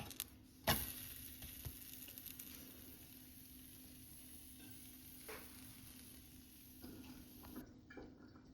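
A besan (gram flour) vegetable puda roasting on a pan, with a soft, steady sizzle and a few light scrapes and taps as it cooks, heard up close with no voices.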